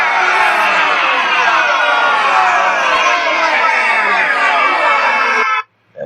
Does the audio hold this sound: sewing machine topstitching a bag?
no